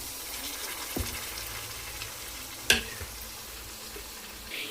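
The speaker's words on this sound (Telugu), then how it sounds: "ఇప్పుడు ఇందులో వచ్చేసి టమాటా ముక్కల్ని అయితే వేసేస్తున్నాను." Tomato pieces frying in a coconut, ginger and garlic masala for an egg and gongura curry, with a steady soft sizzle, a sharp clatter partway through, and no talk over it.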